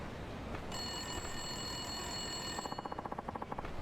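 A public phone booth in the video game Yakuza 5 rings with a steady electronic trill, a bright, moderately loud, sustained ring that breaks into rapid pulsing near the end over low background ambience.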